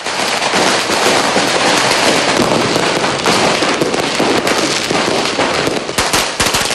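New Year 2007 fireworks and firecrackers going off nonstop, a loud, dense barrage of crackling bursts and rapid pops filling the air, with sharper near explosions toward the end.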